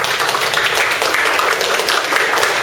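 Brief burst of dense, steady applause from guests in a classroom, many hands clapping together at close range throughout.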